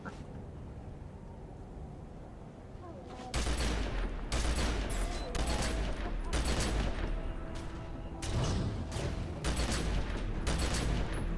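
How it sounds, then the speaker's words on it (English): Rapid continuous gunfire in a video game, starting abruptly after a few seconds of low rumble, then dense rattling volleys with brief pauses. "I can just keep shooting."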